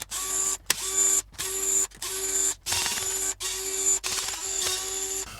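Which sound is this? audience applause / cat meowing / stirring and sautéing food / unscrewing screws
unscrewing screws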